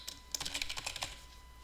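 Quick bursts of keystrokes on a computer keyboard as a custom title is entered, a close, quiet run of uneven clicks lasting under two seconds.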